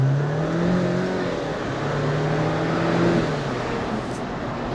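A 2024 Jeep Wrangler Sahara 4xe plug-in hybrid, over 5,000 pounds with 370 horsepower, accelerates hard, its engine rising in a steady drone heard from inside the cabin amid road and wind noise.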